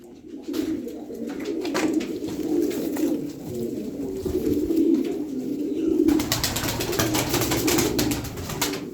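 Pigeons coo in low, throaty, rolling murmurs, several birds overlapping continuously close by, with faint rustling and no voices.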